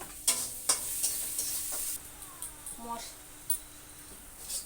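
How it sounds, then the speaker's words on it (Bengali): Spices sauté in a pan with salt and turmeric, a soft sizzle broken by several clinks and scrapes of stirring, with faint background sounds and no voice in the clip. "এর মধ্যে এখন লবণ দিয়ে দেব দেব হলুদ দিয়ে দিচ্ছি এখন সুন্দর করে কষিয়ে নেব"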